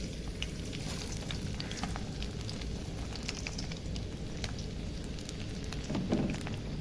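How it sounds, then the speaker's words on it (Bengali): Chopped garlic and ginger frying in hot oil in a pan, a steady close crackling sizzle with a few sharper pops and a brief stir near the end, no talking. "একটু তেলে ভালো করে ভেজে নেবো।"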